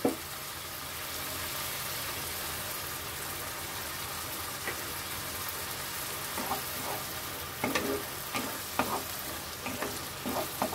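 Quiet, steady sizzle of cashew and poppy seed paste sautéing in a pan, with intermittent scraping and stirring clicks growing more frequent toward the end; no one speaks.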